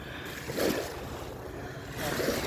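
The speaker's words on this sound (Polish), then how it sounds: "Patrz jak fajnie woda jak pluska." Water splashes and laps on Zalew Zegrzyński, a reservoir lake, heard from a small inflatable boat: soft, steady washing with two gentle swells of louder splashing, mixed with wind noise across the microphone.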